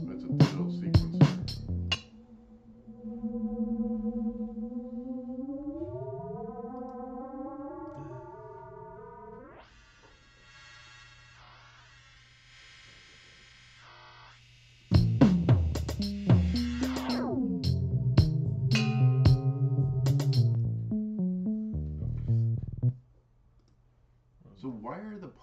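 Digital sequencer playing an electronic bass line with rising, gliding synth tones and stepping patterns, loud and alone, then a denser burst of synth notes and clicks before it cuts out near the end.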